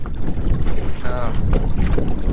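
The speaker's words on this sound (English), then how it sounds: "Other than the wind is about 12 to 15 miles an hour, gusting higher than that." Gusting wind on a lake buffets a boat, rough low rumbling blasts of wind noise surging and easing with water sloshing, with no clear voices.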